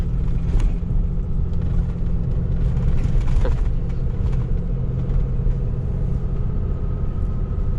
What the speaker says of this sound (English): I'm gonna get on some dirt road here